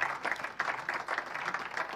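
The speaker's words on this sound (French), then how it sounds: "on peut les applaudir encore une fois, bien sûr" Applause from a conference audience on business transfer and takeover, a steady patter of many hands clapping at moderate distance for a couple of seconds with no voices over it.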